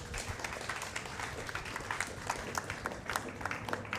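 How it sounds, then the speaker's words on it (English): An audience at a space telescope expert panel gives a round of applause, a steady patter of many hands clapping, moderately loud and lasting throughout. "Can we just very quickly give them a round of applause?"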